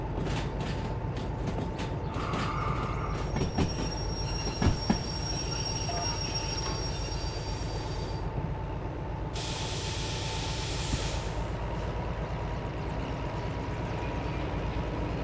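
Locomotive shunting railcars in a train simulation game, a steady rumbling drone of wheels and engine with metallic clanks and creaks, a few coupling knocks, and a high wheel squeal rising partway through, continuous and fairly loud.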